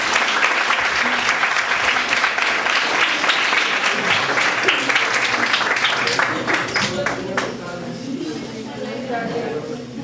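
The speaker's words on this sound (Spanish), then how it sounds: "Bueno, pues recibamos un fuerte aplauso para el senador." An audience at a university research forum in Celaya applauds a senator with sustained clapping that stays full for several seconds, then thins into scattered claps near the end, with a voice briefly audible underneath.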